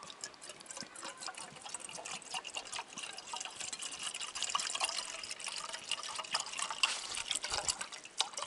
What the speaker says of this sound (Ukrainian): Заливаємо водичку.